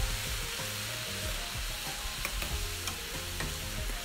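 Broccoli stir-fried in a wok with soy sauce, salt, ajinomoto, sugar and garlic: a loud, continuous sizzle with scraping and tossing noises throughout, no voices.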